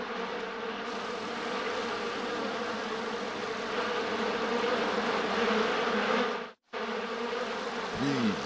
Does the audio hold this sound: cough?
no